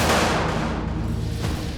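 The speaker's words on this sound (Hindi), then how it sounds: "जिसने भी शमीम की मदद करना चाही, शमीम ने बिना सोचे समझे उस पर गोली चला दी।" A loud, booming gunshot effect from a TV crime drama, a single heavy blast with a long rumbling decay that fills the short moment.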